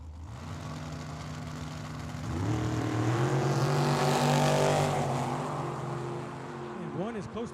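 Drag racing cars launching at Tucson Dragway, one a Camaro, engines swelling to a loud sustained roar that peaks and fades away, with an announcer talking over it.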